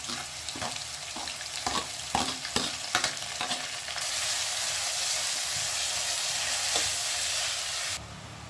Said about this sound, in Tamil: வெங்காயம் போட்டு நல்லா பொன்னிறமாக வறுத்து எடுத்துக்கலாம்